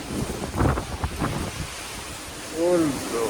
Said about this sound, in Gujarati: વાયરો પવન છે ભાઈ.